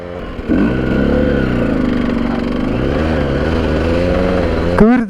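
A Husqvarna SM125 two-stroke supermoto engine bursts into high revs after a short pause and holds a loud, buzzing, wavering whine close by, with a sharp blip at the end.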